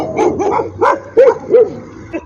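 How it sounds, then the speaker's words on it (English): Several dogs bark at cars driving past on a city roadside in Ethiopia, giving about six loud, close, uneven barks with short gaps between them, all heard alone with no talking. "They're all barking at the cars as they drive by."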